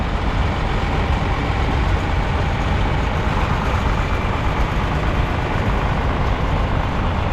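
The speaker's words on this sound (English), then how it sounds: "Andrew's driving a 4030 John Deere built in 1974" A 1974 John Deere 4030 tractor engine runs in a classic tractor parade, producing a steady, loud, close mechanical rumble throughout with no talking.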